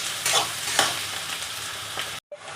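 Onions fry in a pan with a steady close sizzle while a utensil stirs in a few scraping strokes, then the sound cuts off abruptly near the end.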